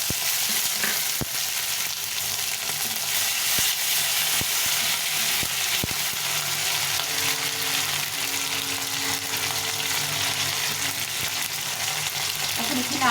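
Chopped tomato with bay leaves, whole cumin, cinnamon, cloves and chilli frying in hot oil for aloo dum, giving a steady, loud sizzle throughout with a few sharp clicks of a spoon near the start and no talk.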